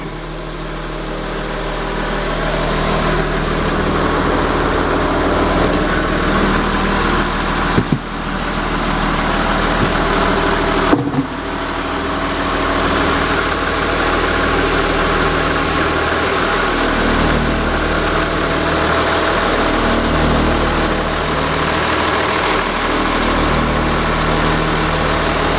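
Twin Yanmar diesel engines idle with the engine hatch open on a 2001 Luhrs 34 boat, giving a loud, steady low rumble and vibration throughout, with a couple of brief knocks and no voices.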